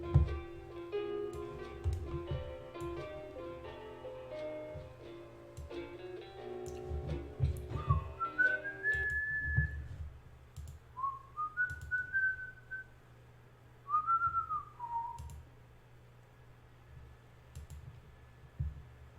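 A person whistles a few short sliding melodic phrases, close and clear, after a stretch of soft clicking and game music, with quiet pauses between the notes.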